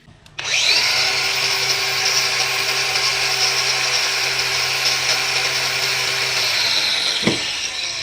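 A DongCheng DCSM03-125 cordless angle grinder spins up from rest and runs at a steady, loud, high-pitched whine without load, then slows down near the end.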